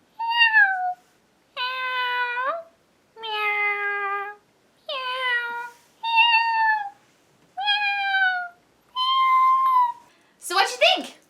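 A voice actor imitates a cat in a Monster High animation, giving eight drawn-out, flat meows in a steady rhythm with short gaps, close and loud, ending in a harsher, noisier cry.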